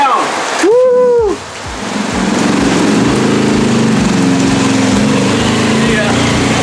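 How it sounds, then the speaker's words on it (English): Steady, dense rain hiss fills the scene, with a voice exclaiming briefly near the start over the downpour. "It's really raining now."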